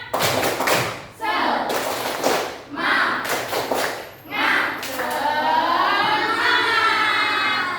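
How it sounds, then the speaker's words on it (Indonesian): A class of children does a rhythmic spirit clapping chant, with bursts of claps and thumps alternating with chanted voices, ending in a sustained sung tone. "mari kita tepuk semangat anak-anak"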